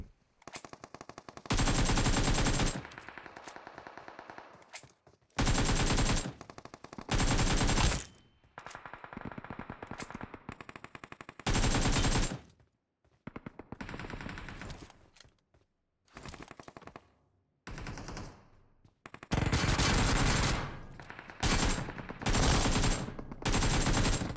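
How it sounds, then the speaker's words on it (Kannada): Bursts of rapid automatic gunfire, loud and close, in repeated volleys separated by short quiet gaps; combat in the video game BGMI on the Erangel map. "ಗನ್ ಸೌಂಡೇ ಹೆವಿ ಕೇಳಿಸ್ತಾ ಇದೆ"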